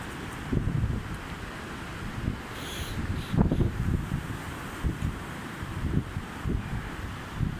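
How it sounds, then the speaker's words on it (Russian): Strong gusty wind roars through bending trees in Tallinn, a loud rushing blast with surges and buffeting against the microphone, with no voices. "Ветер сильный, вон там деревья загибаются."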